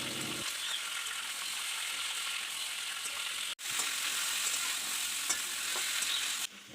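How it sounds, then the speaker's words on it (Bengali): Bitter gourd and eggplant sizzle in oil in a pan while cooking shukto, a steady bright frying hiss with stirring clatter and one brief break. "তার সাথে কেটে রাখা বেগুনগুলো দিয়ে দিলাম, ওগুলোকেও হালকা করে ভেজে নেব।"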